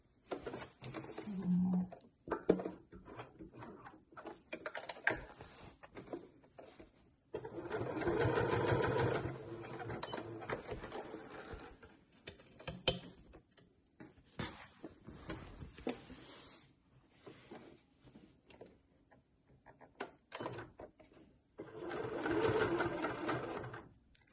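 A sewing machine stitches over existing seams on a fold-over clutch bag, running in several short bursts of rapid mechanical whirring separated by quiet pauses, close and clear with no talk.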